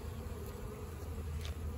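Honeybees buzz steadily close by at a hive entrance, a dense low hum of many insects with no talking.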